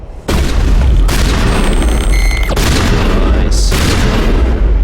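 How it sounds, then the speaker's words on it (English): Loud gunfire bursts and booming blasts from a shotgun in the Mass Effect video game, a sustained barrage of heavy reports filling the whole stretch with no pauses. "Might change to the shotgun."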